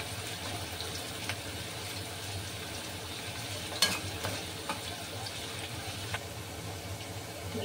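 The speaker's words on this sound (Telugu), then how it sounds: "ఉల్లిపాయలు వేగినాయి" Chopped large onions frying in about four tablespoons of hot oil for jeera chicken fry, a steady low sizzle with occasional stirring scrapes and clinks, close and moderately quiet, with no talking.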